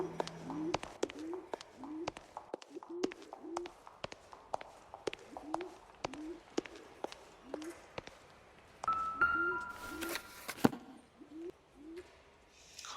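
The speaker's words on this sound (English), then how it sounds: "Can you hear a bird cooing? Like a wood pigeon or something?" Wood pigeon coos repeat in a steady rhythm through a street scene in L.A. Noire, soft and mid-distance, with footsteps clicking alongside and a brief electronic tone partway through.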